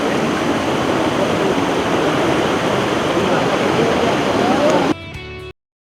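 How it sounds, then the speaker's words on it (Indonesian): The Peronjongan waterfall in Merangin roars in a loud, steady rush of water that cuts off abruptly near the end. "ini namanya air terjun Peronjongan"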